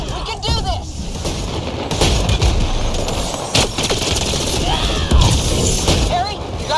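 Rapid gunfire and mechanical clatter in the video game Mass Effect Andromeda, bursts of shots and booms mixed with shouted voices during a chaotic firefight.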